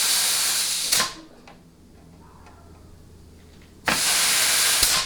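Compressed air from a blowgun fitted with a Fugazi nozzle blasts in two loud, close hissing bursts, separated by a quieter stretch with faint ticks.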